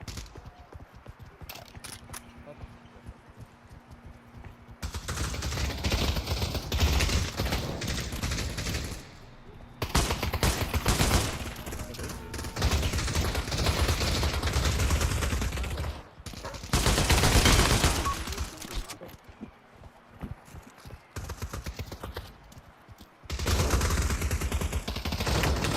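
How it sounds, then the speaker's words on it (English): Gunfire in the VR shooter game Pavlov, dense bursts of rapid shots and rattling automatic fire that come and go over steady background noise, with occasional quieter gaps. "Somebody was shooting me."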